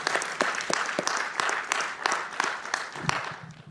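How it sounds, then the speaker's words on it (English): Conference audience applauding poster presenters, a lively burst of many hands clapping in a large hall, steady and fairly dense before tapering off toward the end. "Let's give them a round of applause."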